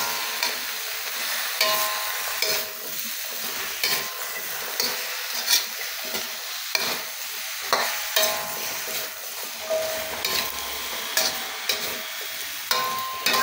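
Chop suey vegetables with celery stirred in a hot pan, a steady sizzle under repeated scraping and clinking strokes of a utensil, close and moderately loud with no talking.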